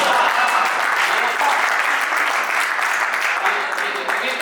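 Loud, steady applause from an audience at a Hindi poetry recital, a thick wash of many hands clapping together with no voices over it.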